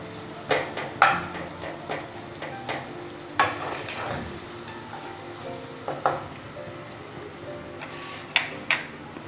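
Onions fry in a pan with salt added, a soft steady sizzle broken by repeated scraping stirs, each a short clatter of spoon against pan, close by and without talk.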